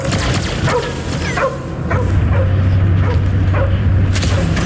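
Cosmo the dog barks in Guardians of the Galaxy amid battle, a series of sharp yips and barks about every half second, loud and close over a rumbling low drone of game sound.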